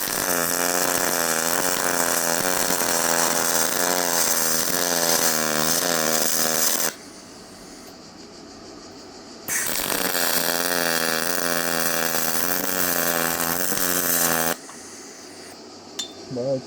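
MIG welding on dirty, uncleaned metal with a Vevor 250A welder set to 100 amps: two long, loud, buzzing runs separated by a short quiet gap, then a brief crackle at the end.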